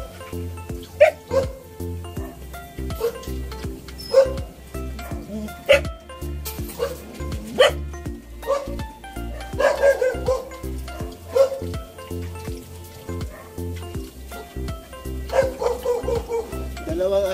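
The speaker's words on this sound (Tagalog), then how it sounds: "dalawang aso namin, si Miles at saka si Cassie" Two pet dogs bark and yip repeatedly at close range, in short sharp bursts that recur throughout, with some whimpering and voices in the background.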